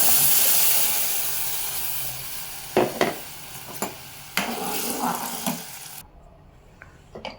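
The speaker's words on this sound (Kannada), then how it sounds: "ಈ ಬೀನ್ಸು ಮತ್ತು ಬ್ರೋಕೊಲಿ ಚೆನ್ನಾಗಿ ಫ್ರೈ ಆಗಿದೆ" Beans and broccoli fry in a pan with a steady hissing sizzle. Several sharp stirring scrapes and knocks cut through it before the sound fades near the end.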